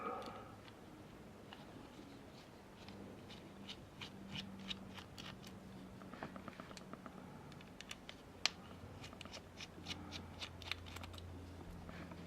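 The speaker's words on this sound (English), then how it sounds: "These screws are surprisingly coming out really simple" Small Torx screws being backed out of a Spyderco Positron folding knife with a driver, giving faint, sparse clicks and scrapes of metal on metal close up in a quiet room.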